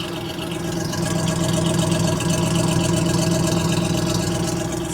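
An old square-body pickup truck engine idles smoothly and steadily, close and loud, with a constant low rumble and even mechanical hum, no voices.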